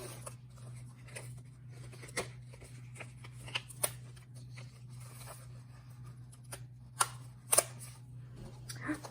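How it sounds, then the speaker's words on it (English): Die-cutting machine running paper through bat-shaped dies for holiday stamping crafts, with soft scattered clicks, rustles and a few sharper snaps over a steady low hum, no talking. "Let's see if the dies will cut that out."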